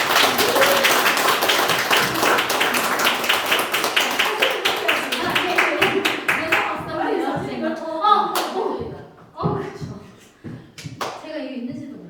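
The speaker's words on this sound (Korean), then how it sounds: "큰 박수로." A Korean business gathering's audience breaks into loud, dense applause that gradually thins out into scattered claps, while voices and murmuring continue through the later part.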